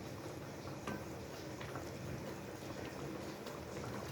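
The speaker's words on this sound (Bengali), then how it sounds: "এটা আর একটু ফুটে গেলে আমি নামিয়ে দেবো এটাকে" A pot of curry bubbling on the stove, a steady soft simmering hiss with small pops throughout, close and moderately quiet, with no voices.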